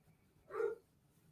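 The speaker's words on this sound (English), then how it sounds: "Listen to him barking." A single short dog bark sounds once, somewhat muffled and distant, against a quiet background.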